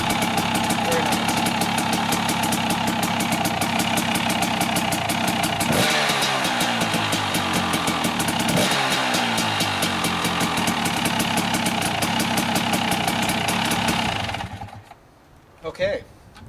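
KTM 300 XC two-stroke dirt bike idling with the choke on after a SmartCarb carburetor install, a steady rapid close-up engine putter with brief revs, then cutting off near the end.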